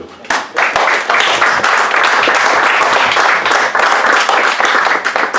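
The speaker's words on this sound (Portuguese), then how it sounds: "Se pedires uma salva de palmas para o Carlos Barreto, se achou." Audience at a book launch applauding, a burst of clapping that rises quickly and holds as steady, dense applause from a crowd of hands, with some voices mixed in.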